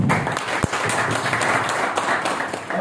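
An audience applauding Dr. Mohan Nair at a Gorkha Pride event in New Delhi, dense sustained clapping from a crowd, fairly loud and continuous throughout.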